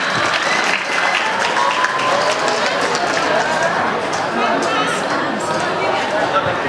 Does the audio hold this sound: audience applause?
yes